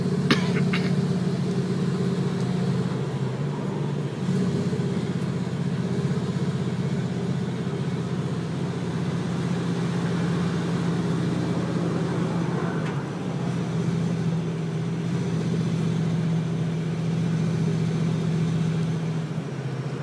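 Engine of a Hino 700 series NGV truck running steadily while driving at about 30 km/h, a continuous low drone with a steady hum that holds throughout, with no talk.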